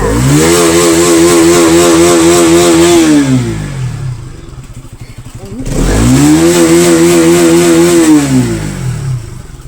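A motorcycle engine revs hard twice, each loud burst climbing, holding and then dropping back toward idle, heard up close with no speech.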